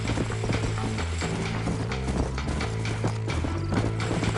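Horse hooves clip-clop in the Red Dead Redemption video game, a steady rapid run of hoofbeats under a dense, loud game soundscape with no voices.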